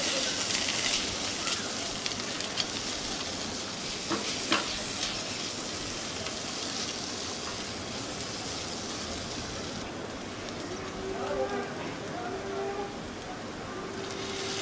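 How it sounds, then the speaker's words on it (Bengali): Puti fish masala with Kashmiri chilli powder, turmeric and salt sizzles in a pan while being stirred, a continuous close crackle with occasional scrapes. A voice speaks briefly late on. "এটাকে ভালো করে নেড়েচেড়ে কষে নেব"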